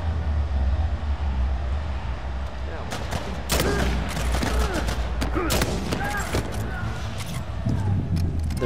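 Rapid shotgun blasts boom in Uncharted 4 co-op gameplay, several sharp bursts with clattering over a rumbling game soundscape, with voices in the background.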